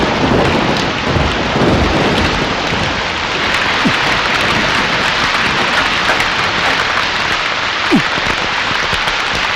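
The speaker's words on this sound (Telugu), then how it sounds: "వర్షం వచ్చేటట్టుంది" Steady, heavy rain pours throughout a thunderstorm, with a few low thunder rumbles beneath the constant hiss and no voices.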